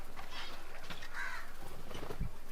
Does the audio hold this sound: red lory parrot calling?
yes